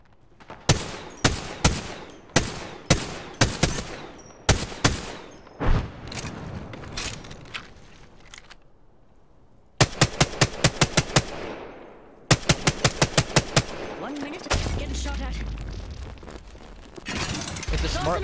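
Gunfire in a shooter video game, heard as repeated bursts of rapid automatic shots that stay loud and close, with short pauses between volleys and a low rumbling boom near the end.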